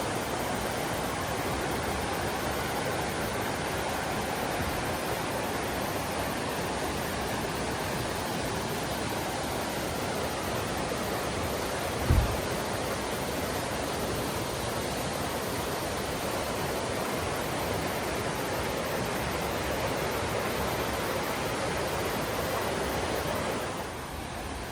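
Steady broadband rush of river water flowing in the Great Smoky Mountains, a constant near wash with no talk and one brief low thump midway.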